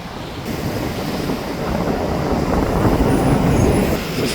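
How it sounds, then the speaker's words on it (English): An eastbound freight train rolls past nearby with a broad, rushing rumble of wheels and cars that swells steadily, with faint metallic squeals above it. "Anyway, eastbound shop train's here"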